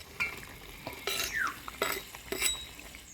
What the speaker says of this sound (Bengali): ভাজা মাছ দিয়ে দিলাম, আর 2 মিনিট ঢাকা দিয়ে দিব।